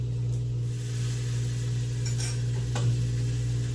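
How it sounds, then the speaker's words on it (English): Sausages sizzle steadily in a frying pan as they are turned to brown on all sides, a constant close frying hiss with a faint clink of a utensil near the end. "keep turning those sausages. Make sure they get nice and brown on all the sides"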